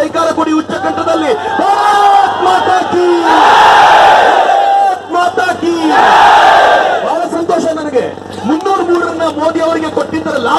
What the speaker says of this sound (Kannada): ಒಂದ್ಸಲ ಭಾರತ್ ಮಾತೆಗೆ ಜೈಕಾರ ಕೊಡಿ